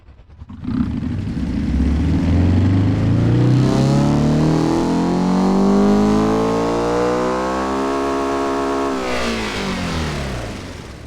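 A simulated retro hot hatch engine from Automation/BeamNG revs through a full pull, starting with a sharp bark and then a rising, raspy, sporty tone that climbs steadily before easing off near the end, loud and with no talk over it.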